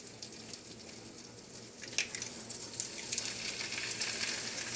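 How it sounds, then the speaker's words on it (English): An egg frying in melted butter in a pan with a slice of bread, a steady close sizzle with scattered crackling pops that grows slightly louder, and no talking. "go ahead and crack your egg into the center of the bread"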